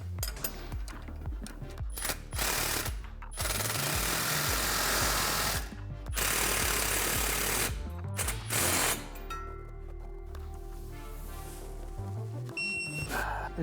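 Power tool driving and tightening a shock bracket bolt and nut on a 2010-2014 Ford F-150 Raptor during a suspension lift install, loud rattling bursts in several separate pulls with short pauses and a metallic clink between them.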